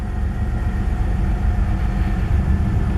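A car engine idles steadily right after a key start, a constant low rumble at close range with no talk over it.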